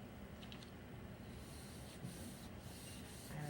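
Burnishing paper by hand onto an inked gel plate to pull a ghost print of a stencil monoprint: a steady, close rubbing and scraping that runs without a break, with slightly stronger strokes toward the end.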